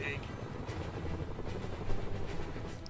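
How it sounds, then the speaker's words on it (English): A helicopter in a Spider-Man video game makes a steady rotor and engine drone under the game's other sounds, with no talking. "There's a helicopter."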